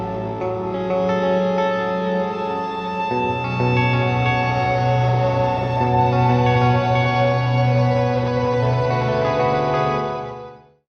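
Music run through a distortion effect: a loud, sustained, buzzy harmonic tone with heavy echo and reverb, holding steady before shifting pitch midway and fading out at the end.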